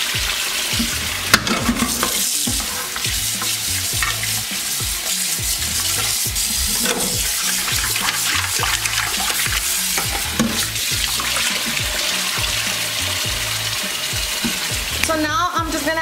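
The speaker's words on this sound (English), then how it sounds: "I'm just gonna wash them real good before we fill them up with water." Continuous splashing and swishing of water as food is rubbed and rinsed, steady and close, with occasional clinks and no talking.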